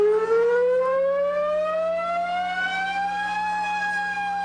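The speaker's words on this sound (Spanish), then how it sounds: "Sirenas sonaron en varios pueblos de la isla" Civil defense sirens sound across island towns during a tsunami drill, one long rising wail climbing steadily in pitch and holding loud and continuous, with no talk over it.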